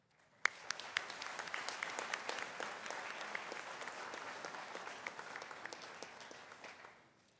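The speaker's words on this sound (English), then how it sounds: "could we clap for each and every person sitting here?" A crowd at a college graduation and valediction ceremony bursts into applause, many hands clapping together in a sustained, fairly distant wash that starts abruptly and fades near the end.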